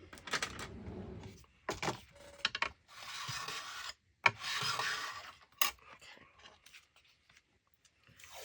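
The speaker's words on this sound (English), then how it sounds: "I'm just going to grab my bone folder here." A bone folder rubs and scrapes across paper and washi tape while smoothing out a bubble on a vintage ephemera craft piece, giving several close, dry, rasping strokes in bursts separated by short pauses.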